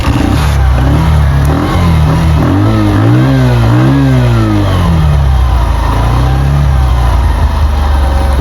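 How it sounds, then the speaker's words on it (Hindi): A car with a discharged battery revs loudly nearby, its engine tone climbing and falling in a few surges before settling back toward a steady idle. "गाड़ी का नॉइज सुनो तो प्लीज़ माइंड मत करना यार, क्योंकि बैटरी डिस्चार्ज हो गई है"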